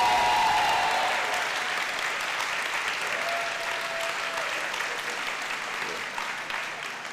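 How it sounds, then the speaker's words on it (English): Audience applause at a campus convocation for public safety officers, a sustained broad wash of many hands clapping, steady and fairly loud before slowly tapering off near the end. "Can we give a round of applause?"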